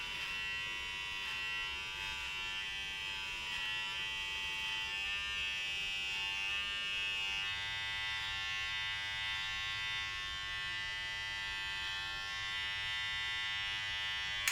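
Electric hair clippers buzz steadily and close by throughout a self-done buzz cut taper fade with a 1.5 guard, humming continuously without a break.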